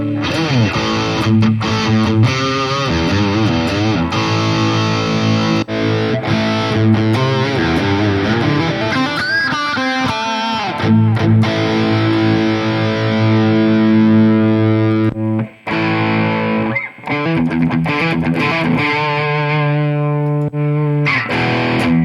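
High-gain distorted electric guitar played through a Harley Benton DNAfx GiT Pro multi-effects unit, heavy saturated chords and riffs ringing loud and continuous with a few brief breaks.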